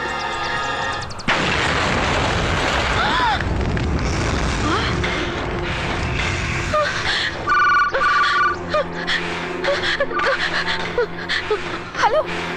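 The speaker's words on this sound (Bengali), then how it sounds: "তুমি ওখানে যে বিস্ফোরণটা দেখলে" A loud explosion in a dubbed Tamil action movie bursts in after a quiet opening, with booming rumble and crackling debris over dramatic music, followed by tonal ringing and scattered bursts.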